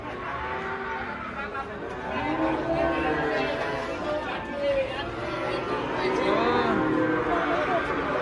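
A huge, unusual cow being unloaded from a truck lows repeatedly while people chatter and exclaim around it, the moos rising and falling under the surrounding crowd noise.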